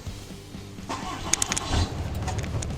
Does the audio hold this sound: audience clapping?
no